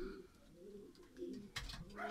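Racing pigeons coo at a home loft as young birds return from their first race, a low soft cooing running through the whole short stretch, with a brief louder rustle or flutter near the end.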